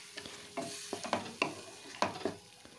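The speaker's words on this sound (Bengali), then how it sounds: "দেওয়ার পর এটাকে একটু মিশিয়ে দিচ্ছি, আর এটাকে বেশ নাড়াচাড়া করে ফুটতে দেবো।" A spoon stirs thick ripe tamarind paste in a pan for sweet-sour pickle, making several quiet, separate scrapes and taps over a faint low simmer.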